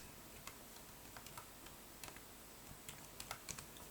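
An email address being typed on a computer keyboard: a quiet, close run of light key clicks, irregular at first and then quicker toward the end, with no talking.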